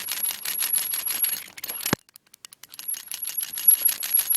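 A springless padlock's shackle is pulled up and let go, giving a sharp metallic clack near the middle amid a run of faint rattling and clicking, close and fairly loud, with no talk.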